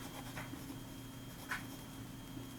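A vintage Parker 45 fountain pen with a semi-hooded nib scratches softly across paper in short strokes, faint and close over a low steady background hum.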